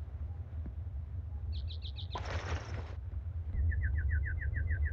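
A parakeet in the Minecraft Tekkit video game gives a quick run of bright chirps, then a short fluttering burst, then another steady string of chirps over a low background hum.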